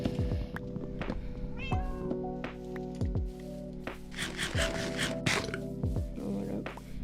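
Cat meows from a Minecraft game, several short mews repeating across the stretch over a steady game background, clear and fairly close with no talking.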